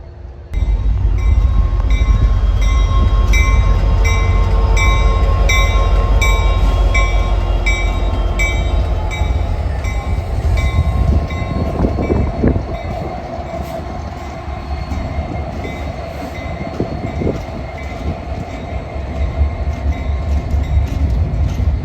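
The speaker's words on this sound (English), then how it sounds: "Reading Blue Mountain and Northern number 2102, which would be running an excursion from Nesquehoning to Pittston" Reading Blue Mountain and Northern steam locomotive number 2102 hauls an excursion train in eastern Pennsylvania, a loud, close, continuous rumble with sustained whistle tones and wheel noise and no voices.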